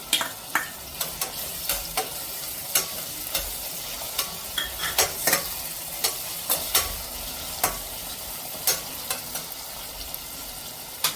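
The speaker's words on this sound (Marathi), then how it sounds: "कांद्याचा रंग थोडासा बदलायला लागलाय यामध्ये आपण टोमॅटो टाकून घेऊया" Chopped onion and tomato sizzle and fry in a pan for vegetable pulao, a steady close hiss broken by sharp, regular scrapes and clacks of a stirring spoon, with no talking.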